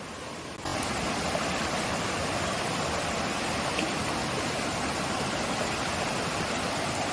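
Constant broadband rush of flowing water, like a stream running steadily close by, a Konkan forest stream swollen by heavy monsoon rain, with no voices.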